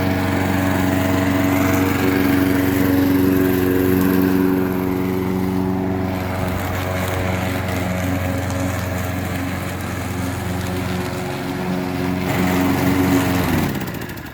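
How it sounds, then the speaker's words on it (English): A lawn mower engine drones loudly and continuously nearby at a dacha, its steady hum dipping slightly midway before swelling again. "let's fire up the lawnmower and let's go at it"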